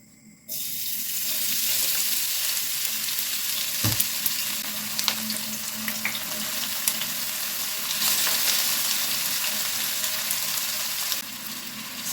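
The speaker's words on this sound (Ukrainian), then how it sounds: "смажу капусту на великому вогні" Cabbage fries loudly in hot oil on high heat, a constant crackling hiss with occasional stirring clatter, close up.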